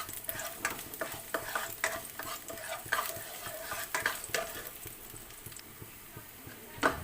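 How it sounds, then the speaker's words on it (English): Garlic sauteing in a pan for chicken curry crackles and hisses softly while a utensil scrapes and stirs in irregular strokes, fading toward the end. "we have to add our garlic. And just saute for like a few seconds."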